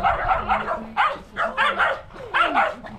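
A dog barks and yips in short bursts at a pickup after a family boat trip, close and excited, with whimpering squeals between the barks.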